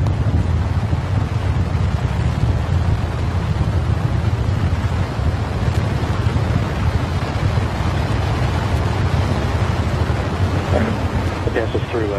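Artemis Moon rocket engines roar through a NASA hot fire test, a steady broad rumble like wind and thunder lasting the whole stretch, heavy and continuous with faint crackle on top and no one talking.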